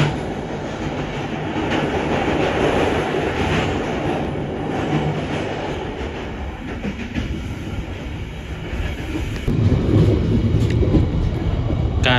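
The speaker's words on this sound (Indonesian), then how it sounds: "Melintasi jembatan Citiis." Riding aboard the Kutojaya Selatan passenger train as it crosses the Citiis bridge in Indonesia, a loud, continuous rumble of wheels and carriage carries on throughout and swells heavier toward the end.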